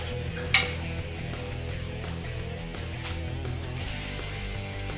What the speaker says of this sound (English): I'm just going to scrape it from the skin